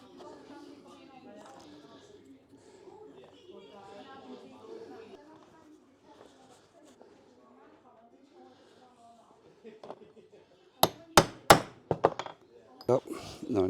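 A person talks for several seconds while working on a leather bag in a bag factory. Then a burst of sharp, loud metallic taps rings out as press studs are hammered into the leather, several quick strikes close together.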